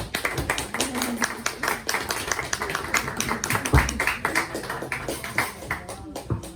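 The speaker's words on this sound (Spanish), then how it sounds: "Un aplauso." Small audience clapping at a science café talk, a sparse, uneven patter of individual hand claps at moderate distance, thinning out toward the end with a few low voices in the background.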